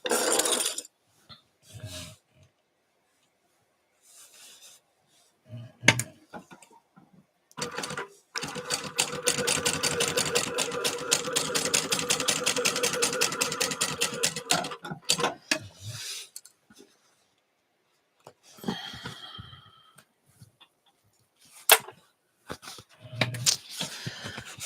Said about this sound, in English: Now, I'm just going to sew that little basting stitch back down and move on to the next step.